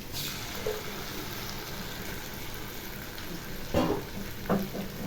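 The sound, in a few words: onions frying with poppy seed, cashew and melon seed paste, stirred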